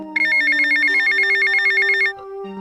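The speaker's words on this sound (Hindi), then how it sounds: "तभी उसके मोबाइल पर एक कॉल आता है।" A mobile phone rings with an incoming call late at night, giving a loud, steady electronic ringtone with a rapidly pulsing high tone over shifting lower notes for about two seconds before cutting off.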